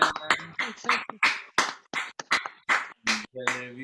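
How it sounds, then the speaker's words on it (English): Participants at an online poetry open mic clap in a steady beat, roughly three crisp, close claps per second, with a voice sounding between and over them. "Can we clap?"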